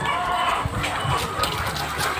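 Backyard chickens cluck in short, scattered bursts within a busy, noisy setting at close range, with no talk.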